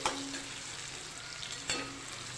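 Turmeric, ground coriander-cumin and salt are stirred in a hot pan for a cabbage dish, a close, steady sizzle with scraping stirs and a sharper clatter near the end.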